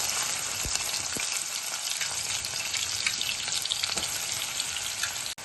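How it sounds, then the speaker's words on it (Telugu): Green chilies and onion pieces frying in hot oil, a loud, continuous close sizzle with steady crackle throughout, briefly dipping at the very end, with no talking. "ఆయిల్ అయితే వేడైంది మనం ముందుగా కట్ చేసి పెట్టుకున్న పచ్చిమిరపకాయలు వేసుకుందాం ఉల్లిపాయ ముక్కలు"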